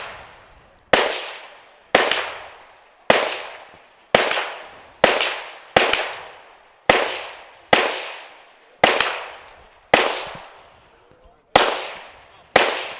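Rifle shots at a gun shoot-off competition, about a dozen sharp, loud cracks at roughly one-second intervals, each followed by a short decaying echo, with a commentator talking between shots.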